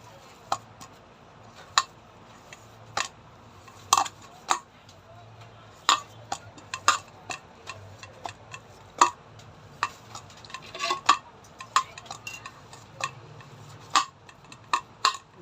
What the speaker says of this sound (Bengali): ঘি দিয়ে ভালো করে মাখিয়ে নেবো